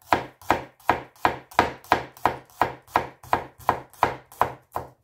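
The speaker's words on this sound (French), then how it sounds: "Puis émincez finement l'échalote." A knife finely slices a shallot on a cutting board in a brisk, even run of about fourteen crisp chops, each a sharp close tap with a short decay, with no talking.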